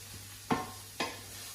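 Onions and leeks cooking together in a pan, with two brief stirring scrapes over a soft, steady background hiss and no talk.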